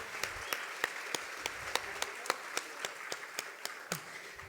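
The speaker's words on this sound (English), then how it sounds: "Please give them another round of applause for all they've done." Sparse, faint clapping from a few hands at a gala dinner, individual sharp claps spaced irregularly across several seconds with quiet gaps between them.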